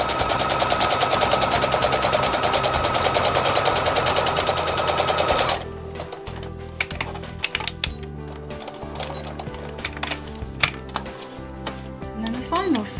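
A sewing machine runs steadily for about five seconds, stitching the edge of a padded coffee cosy with wadding. It stops abruptly and is followed by quieter handling clicks and rustles.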